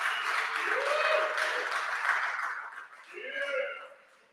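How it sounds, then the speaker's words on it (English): A tech meetup audience in an office space gives a short, warm round of clapping with a few voices and chuckles mixed in, swelling again briefly before it dies away. "Round of applause for SafetyCulture"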